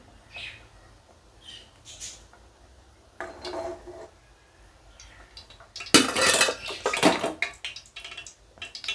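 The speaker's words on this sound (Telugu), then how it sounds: "ముందుగా ఒక ప్యాన్ తీసుకొని మనం తీసుకున్న ఆయిల్ తీసుకొని" A pan handled on a home stove as oil goes in for tempering bitter gourd fry: scattered clinks and taps early, then a louder burst of clatter and scraping near the end, with no talk.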